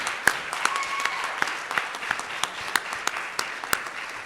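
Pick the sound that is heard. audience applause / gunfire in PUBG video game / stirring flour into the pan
audience applause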